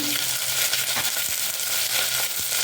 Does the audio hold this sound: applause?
no